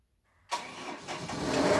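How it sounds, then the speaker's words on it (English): An inboard boat engine cranks and fires after a short silence, catching at once and settling into a rising, steady fast idle, close and fairly loud with no speech. "I push accelerator and start engine."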